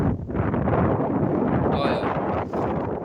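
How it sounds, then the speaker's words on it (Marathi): Strong wind roars and buffets the microphone in a steady, loud rush with brief gusty swells. "मित्रांनो आता वारा बघा कसा सुटला"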